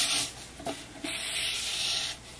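Charcoal lightly laid on paper being rubbed out, a steady dry scrubbing friction in back-and-forth strokes, close and fairly loud with no voices.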